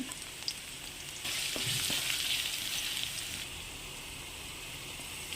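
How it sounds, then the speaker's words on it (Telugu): Onion and cashew pieces frying in a pan for beetroot rice, a steady broadband sizzle that swells louder in the middle stretch, with a couple of faint clicks and no voices. "ఆనియన్ అండ్ కాజు వీటిని వేగనివ్వాలి"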